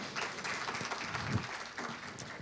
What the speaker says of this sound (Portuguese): nós vamos receber agora, com uma salva de palmas, nosso próximo convidado, Ernesto Raikevich